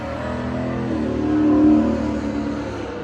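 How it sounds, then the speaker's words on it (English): A loud car drives past close by, a broad engine roar that swells toward the middle and then eases off, with no talking over it. "Loud car going by."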